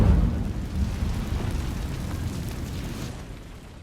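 An Incendio fire spell is cast in Hogwarts Legacy, a loud whooshing burst of flame that fades into a steady crackling roar, with no talking.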